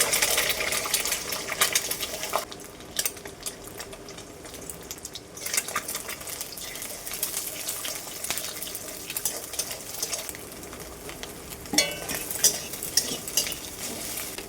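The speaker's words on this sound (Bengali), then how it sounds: "এখন ডিম দুটোকে আমি ভেজে নিচ্ছি" Two eggs fry in hot oil in a pan, a steady sizzle with metal utensil scrapes and clinks on and off throughout, and nobody speaking.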